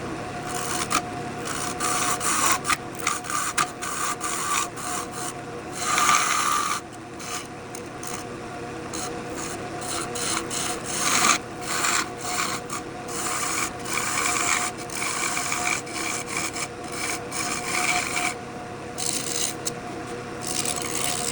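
Gouge cutting a rough walnut bowl on a wood lathe, a continuous close, loud rasping scrape with repeated irregular catches and shifts in intensity, with no talking.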